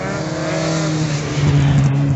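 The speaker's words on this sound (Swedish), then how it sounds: "där kommer väl den där Toyota som tar sig upp på andra platsen" Toyota race car in a rallycross race, engine droning steadily and loud with a rising revving pitch as it drives close by, no voices.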